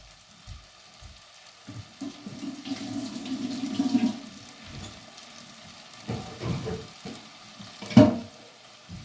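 Cooking water being poured off boiled okra into a sink, a splashing gush that swells and fades in bursts with a final louder splash, no talking.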